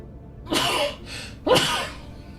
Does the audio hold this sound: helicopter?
no